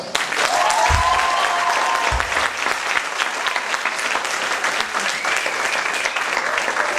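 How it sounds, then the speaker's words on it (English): A theatre audience applauds performers at a musical's curtain call, with dense, steady clapping that stays loud throughout and carries a few cheers. "Can we hear another round of applause for our terrific performers?"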